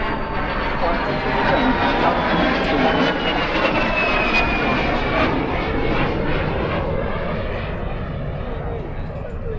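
Jet aircraft powered by an Alpha H1 turbojet flying past at an airshow, a loud continuous engine roar with a slowly falling whine, steady throughout with a commentator's voice over it.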